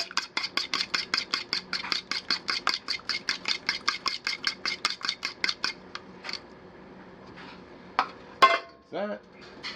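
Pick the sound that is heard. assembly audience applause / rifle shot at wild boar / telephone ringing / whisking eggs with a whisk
whisking eggs with a whisk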